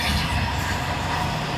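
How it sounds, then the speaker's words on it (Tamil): Train rolling past on a railway track right beside a residential flat balcony in Ambattur, a loud steady rumble of wheels and carriages filling the short stretch without pause. "ட்ரெயின் போயிடுச்சு."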